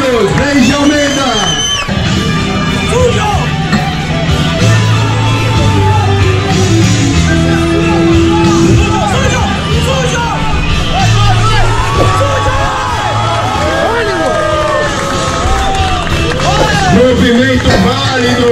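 A crowd cheers and applauds for a strongman athlete after a 150 kg lift at a strongman event in Ilhabela, a steady roar under a loud announcer's voice.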